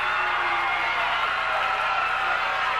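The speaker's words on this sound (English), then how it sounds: "the Proctor cheering section. Yeah, you can hear them." A lively high school girls basketball cheering section for Proctor, a dense steady roar of crowd noise with shouts and whoops filling a gym throughout, loud and continuous.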